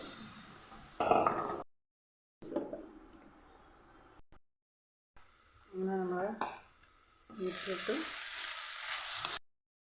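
Carrots and beans stir-fry in a pan for a Kerala thoran, sizzling in several separate bursts with gaps of near silence between them.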